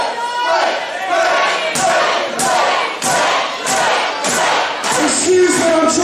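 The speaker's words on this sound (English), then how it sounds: "Block out the cheers for Blake, block out the claps" Loud wrestling crowd at an EAW caged warfare event, cheering and rhythmic clapping surging in waves with heavy thuds, close and continuous, voices shouting throughout.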